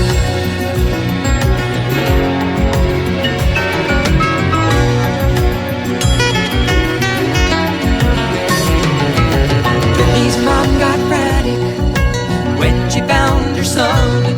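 A sample plays from a vinyl record: steady, full-band music with instruments and a busy rhythmic texture, loud and continuous for about fifteen seconds.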